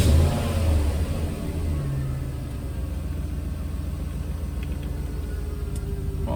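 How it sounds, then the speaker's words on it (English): A Mercedes E420 with a manual swap starts up and settles into a steady warm-up idle, with a brief louder rev at the start and a constant low engine drone close by. "I'm gonna start it up, let it warm up for a little while"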